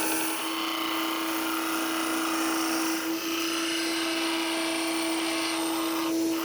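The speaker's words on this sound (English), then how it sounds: "I have my homemade belt disc sander over here for a reason" A homemade belt and disc sander runs loud and steady while aluminum compass parts are shaped against it, giving a continuous high whine with a strong fixed tone and brief dips where the workpiece presses in, with no talking.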